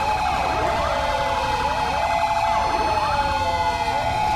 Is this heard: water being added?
no